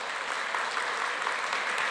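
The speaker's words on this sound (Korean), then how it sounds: "우리 박수로 환영하겠습니다." Church congregation applauding to welcome visiting parents during a Sunday service, a steady, dense wash of clapping from many hands in a reverberant hall, continuous for the whole stretch.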